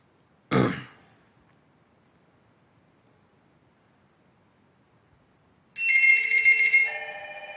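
IP phone in a DINSTAR PBX ring group rings for an incoming call: after a short burst of noise and a stretch of near silence, a loud electronic ringtone starts close by and keeps warbling in a steady pattern.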